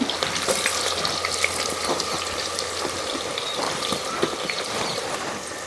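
Onions frying in a pan for a raw mango and small fish curry make a steady, close sizzling hiss with faint crackles, continuous throughout and with no voices.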